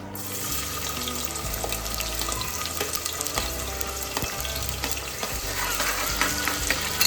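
Bay leaf and onion dropped into hot oil for a chicken curry, a continuous close sizzle and crackle with stirring clatter over a low hum, no talk.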